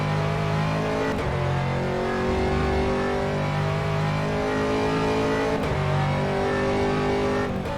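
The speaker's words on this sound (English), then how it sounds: "There's a faster class car behind." An Aston Martin GT3 race car engine in rFactor 2 at Imola roars continuously up close, rising and falling through gear shifts, while a faster-class car closes from behind.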